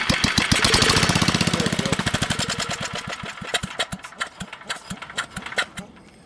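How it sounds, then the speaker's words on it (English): A small engine on a berry picking machine runs steadily, with rapid regular firing pulses that rise briefly as the throttle opens and then settle into an uneven idle. It is close, loud and clear of speech. "So this is a great running engine."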